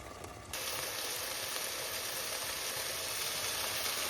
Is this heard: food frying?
yes